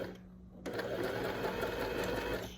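A Janome S-2008P sewing machine runs a straight stitch, starting after a brief pause and then humming and clattering steadily up close.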